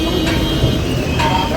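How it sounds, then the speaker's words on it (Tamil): Heavy road traffic in Mumbai near the Gateway of India, a steady dense wash of engine and road noise with a faint horn-like tone and voices mixed in throughout. "டிராஃபிக் ஃபுல்லாக டிராஃபிக் ஆகுது."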